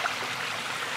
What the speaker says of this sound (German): Hier vorne ist dieser Fluss, wo ich die ganze Zeit Wasser gesoffen habe.